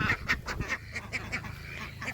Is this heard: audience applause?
no